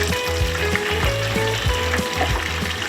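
Marinated chicken pieces frying in hot oil in a wok, giving a steady, close, dense sizzle with bubbling crackle throughout and no talking.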